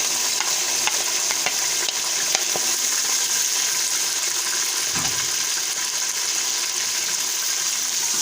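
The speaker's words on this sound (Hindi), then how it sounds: "अब प्याज को हम थोड़ी देर ब्राउन कर लेंगे" Onions fry in a pot, browning in hot oil with garlic, giving a steady, close sizzle with occasional stirring scrapes and a soft bubbling undertone, no talking.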